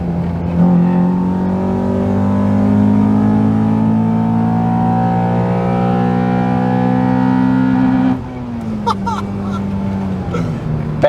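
A Honda Accord Type S engine revs hard and holds a high, steady climbing note for about eight seconds inside the car, then drops away, while people talk over it.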